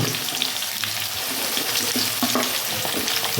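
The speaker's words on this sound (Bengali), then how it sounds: "ডাঁটাগুলো দিয়ে দেবো ডাঁটাগুলো দিয়ে ভেজে নেব" Vegetable stalks and green banana frying in a pan for shukto, a dense continuous close sizzle with soft stirring scrapes running throughout, no voices.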